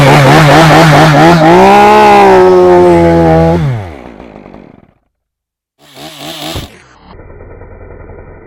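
A Husqvarna 394XP chainsaw running loud and close, its engine droning at high revs for several seconds before winding down, then a brief rev and a steadier buzz after a short silence.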